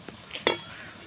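Thankuni (Indian pennywort) leaf fritters fry in a pan, with a faint steady sizzle and two brief sharp clinks of a utensil against the pan close by.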